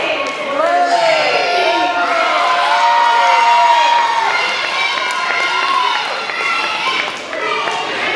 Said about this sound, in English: This crowd is absolutely loving Brayden Lee